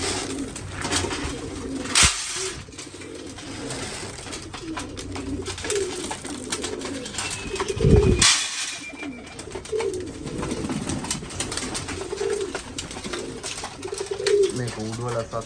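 Pigeons in their backyard lofts give soft, low cooing in a steady, repeating murmur through the whole stretch, with a brief flutter or clatter near the middle and quiet voices in the background.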